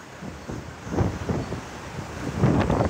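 Strong typhoon wind buffeting an outdoor microphone, rising in loud rumbling gusts with a steady roar underneath and no voices.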